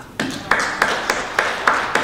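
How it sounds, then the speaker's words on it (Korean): A few sharp, evenly spaced claps ring out in a church sanctuary as a congregation starts applauding, sparse and moderately loud over a quiet room. "하나님께 영광의 박수를 올려드립시다"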